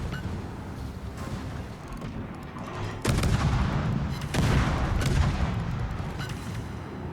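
Warship guns firing high-explosive shells in World of Warships, a steady rumbling barrage of heavy booms with two louder surges partway through, continuous and close with no talking.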